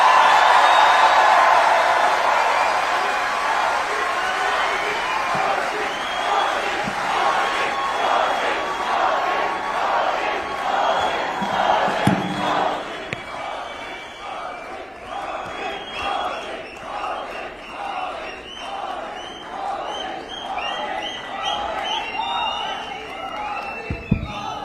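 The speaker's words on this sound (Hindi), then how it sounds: "हमारे प्रिय प्रधानमंत्री श्री नरेंद्र मोदी जी का तालियों की गड़गड़ाहट से स्वागत करें।" A large crowd greets Prime Minister Narendra Modi with loud applause and chanting cheers, a dense, sustained roar at first that settles into rhythmic, voiced crowd chanting.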